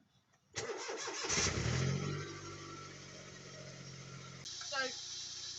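Engine of a Smart Roadster hill-climb car running in a garage during clutch work, starting up loudly with a rumbling idle that holds steady, then a brief whirring rise near the end.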